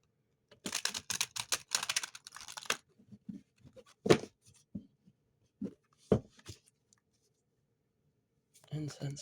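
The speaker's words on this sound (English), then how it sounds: "Hold on, let me shuffle this." Tarot cards are shuffled by hand in bursts of quick riffling and flapping, close and crisp, with sharper taps and slaps between the bursts and quiet gaps, then another short shuffle at the end.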